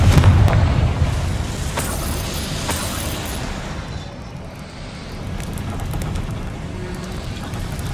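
A Confringo fire spell blasting in the Hogwarts Legacy video game, inside a goblin mine, with a loud booming burst at the start followed by a sustained rumbling, crackling roar that lingers throughout.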